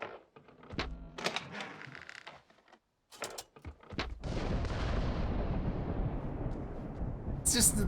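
Thunder in a video game booming like cannon fire: a few sharp, heavy cracks and rumbles early on, then a sustained loud roll of low rumbling noise that swells toward the end.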